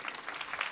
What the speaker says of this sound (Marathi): टाळ्या वाजवा ना जोरदार.